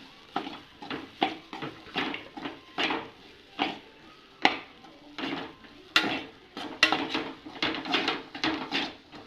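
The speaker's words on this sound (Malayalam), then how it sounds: "നല്ല രീതിയിൽ ഇളക്കി ഈ പെരുമ്പയറും ഈ ബീട്രൂട്ടും കൂടി യോജിപ്പിക്കണം" A spoon scrapes and knocks steadily around a pan as beetroot and cooked cowpeas are stirred together for a coconut thoran, with close, rhythmic clinks repeating about once a second and no talk.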